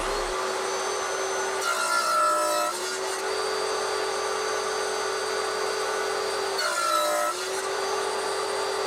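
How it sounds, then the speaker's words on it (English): A table saw with a crosscut sled runs at a steady, loud whine while a slot is cut into the top of a wooden mallet handle made from pallet wood. Two distinct passes through the wood briefly change the tone. "I cut a slot in the centre at the top of the mallet handle by clamping it to the crosscut sled on my table saw and making a few passes"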